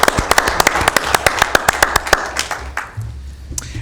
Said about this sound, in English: So if we can give him a big round of applause.